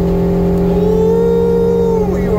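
Truck engine fitted with a performance carburetor revving hard and accelerating uphill, a loud, steady mid-pitched drone that climbs smoothly in pitch, heard close from inside the cab.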